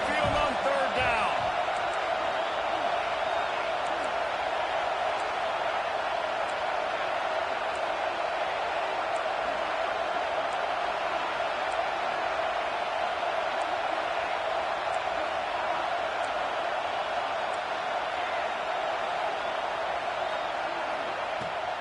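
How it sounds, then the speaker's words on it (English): Alabama Crimson Tide football crowd roaring on third down in the stadium, a loud, sustained wash of noise holding steady throughout with faint sharp knocks, with broadcast talk over it. "The Tide crowd rolling noise down onto Saban Field on third down"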